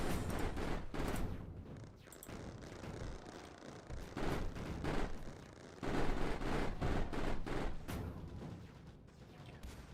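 Gunfire from fuses loaded with thorium in a GTA V match, shooting pink bullets in dense, rapid bursts that swell and fade over several seconds, fairly distant and muffled.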